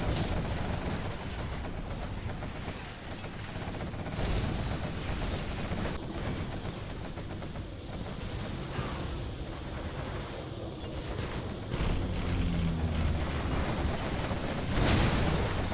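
A particle cannon beam strikes during a Generals Evolution real-time strategy battle, rumbling and crackling continuously amid a dense wash of distant gunfire and explosions, with a heavier blast surge near the end.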